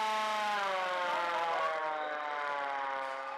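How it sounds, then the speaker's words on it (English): Civil defense alarm siren sounding at Delhi's Indira Gandhi International Airport during a nationwide emergency mock drill, a steady loud wailing tone held throughout with a slight waver, alone without voices. "Sirens were sounded at Delhi's Indira Gandhi International Airport"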